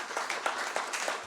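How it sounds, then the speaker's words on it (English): Audience applauds panelists and delegates at an economic outlook launch event, a brief burst of many hands clapping in a dense, even patter across a hall. "can you kindly give our panelists and our delegates a warm round of applause?"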